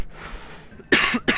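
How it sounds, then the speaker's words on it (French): Two sharp coughs from a mildly ill person, close and loud, the first stronger and the second following quickly after a brief pause. "je vais tousser."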